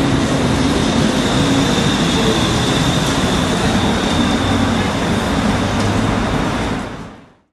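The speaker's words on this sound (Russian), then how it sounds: "Это скоростной поезд Hyundai." A Hyundai high-speed train rumbles past with a steady, loud broadband roar and a faint high whine, holding constant and then fading out at the end.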